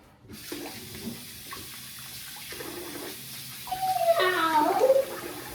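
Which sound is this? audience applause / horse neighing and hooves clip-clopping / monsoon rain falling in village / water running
water running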